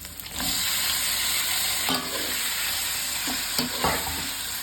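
Tomatoes sautéing in butter in a pan for thakkali thokku give a steady close sizzle, broken by a few soft scraping stirs near the two- and four-second marks.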